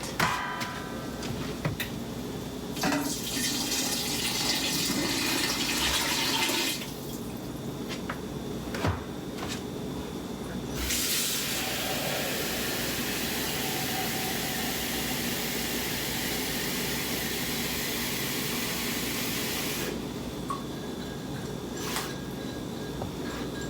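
A quart of water pours into a pot for gumbo as a steady, faint hiss and trickle that holds for long stretches, with a few small ticks and drips between pours.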